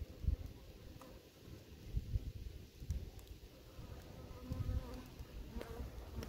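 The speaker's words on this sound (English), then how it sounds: "So we caught us another swarm here." A caught honey bee swarm with a queen, settled in a swarm trap packed with honey and pollen, gives off a dense continuous buzz close by, with individual bees flying past in louder swells.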